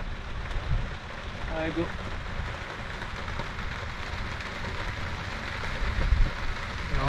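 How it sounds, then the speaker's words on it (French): Heavy rain pours down across a golf course in a broad, steady wash that fills the whole clip, while someone speaks over it and shouts briefly. "Il pleut des trombes."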